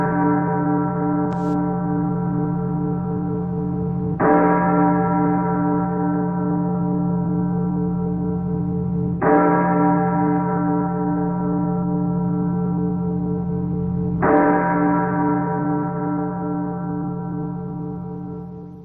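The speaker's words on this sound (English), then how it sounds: "I'll ring the long bells for him as well." Long resonant bell tolls struck for a moment of silence, three strikes spaced about five seconds apart, each ringing out with a sustained humming decay, loud and alone with no talk.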